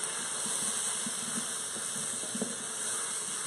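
Fingerling potatoes brown in a hot pan with a steady, close sizzling hiss and occasional crackles throughout.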